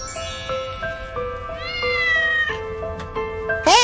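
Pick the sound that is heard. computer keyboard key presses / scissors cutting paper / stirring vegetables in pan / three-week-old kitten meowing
three-week-old kitten meowing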